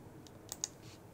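Two quick computer mouse clicks, close and crisp, land about a tenth of a second apart in a quiet room, made while connecting to an elevation data source in Global Mapper mapping software.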